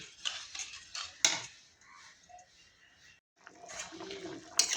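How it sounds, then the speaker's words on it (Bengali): A cooking pot holding potatoes and cauliflower with prawns in a watery gravy gets covered with its lid, giving a clanking metal knock at the start and again at the end, with faint clinks and rustling between. "জল দেওয়া হয়ে গেছে, এখন আমি ঢেকে দেবো।"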